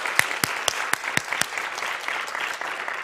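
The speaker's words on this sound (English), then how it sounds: "come on, clap your hands." A church congregation claps together in a steady rhythm of about six sharp, loud claps, then the hall settles into a diffuse wash of lighter scattered clapping and crowd noise.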